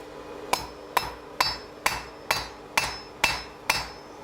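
Blacksmith hammering hot iron to forge a nail, eight sharp metallic strikes at a steady rhythm of about two per second, each ringing briefly, loud and close with no talk.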